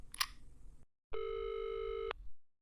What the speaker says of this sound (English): He took out his phone and called Sam